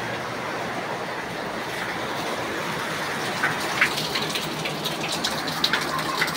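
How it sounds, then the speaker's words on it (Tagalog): Heavy rain pours steadily, a dense continuous hiss with scattered sharper drips and splashes near the end. "Lakas ng ulan, oh."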